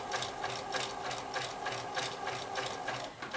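Sewing machine stitching fabric in a fast, even run of needle strokes, close and steady for the whole stretch, with no talking.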